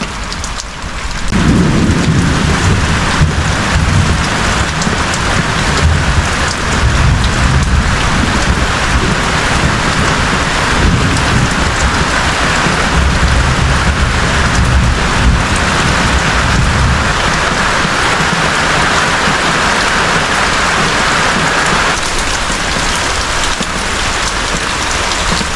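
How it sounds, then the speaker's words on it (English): Heavy rain pours onto zinc roofing at a village homestead, a dense, continuous hiss and patter with deep rolling thunder rumbling underneath for much of the time, loud and close, with no voices. "started to rain now,"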